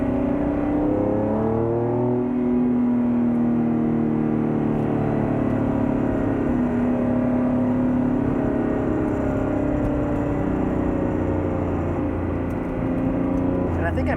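Honda NSX V6 with VTEC running steadily, a continuous loud engine drone with rising and falling harmonic tones as revs shift, heard from inside the car with no talking.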